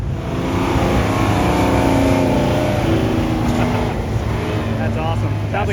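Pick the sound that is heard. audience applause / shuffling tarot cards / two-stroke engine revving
two-stroke engine revving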